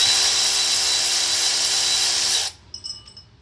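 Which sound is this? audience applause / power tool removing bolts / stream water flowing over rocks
power tool removing bolts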